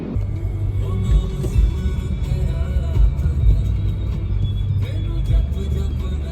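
A car on a hill road trip in Uttarakhand, heading from Noida toward Rampur and Mukteshwar, gives a steady, close low rumble of engine and road noise from inside the cabin, with only small bumps and no talking.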